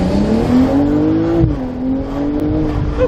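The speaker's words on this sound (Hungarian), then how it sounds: "Itt volt egy Porsche, nem nyomtam le, de most nyomok egy launch controlt" Porsche launching hard under launch control, with a loud, steady engine note that climbs in pitch, eases briefly partway through, then carries on strongly to the end.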